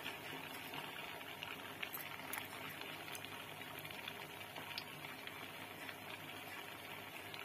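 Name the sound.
Mysore bajji batter frying in hot oil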